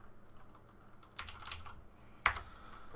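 A very loud mechanical keyboard clatters with scattered keystrokes and two sharper bursts of clicks, close and dry, during a StarCraft 2 match, with no one talking.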